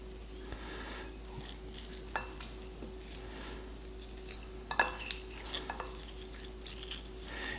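A spoon scraping the flesh of halved ripe kiwis from the skin into a bowl, with soft, faint scrapes and a few sharper clinks of metal against the bowl over a quiet room hum.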